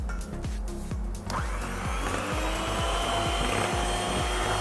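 An electric mixer beats butter, sugar and vanilla for semprit cookie dough, a steady close motor whine with repeated dips and rises in pitch as the beaters work through the mixture.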